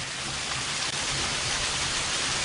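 Heavy rain pours down in a dense, steady hiss, heard from a porch, loud and unbroken throughout.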